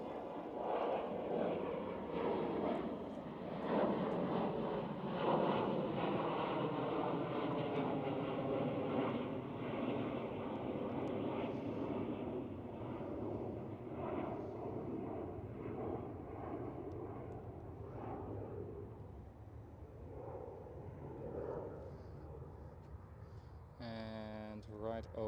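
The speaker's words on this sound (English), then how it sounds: "KLM City Hopper E175." A KLM Cityhopper Embraer E175 regional jet at Amsterdam Schiphol gives a steady, fairly distant engine roar that lasts throughout, with people talking over it.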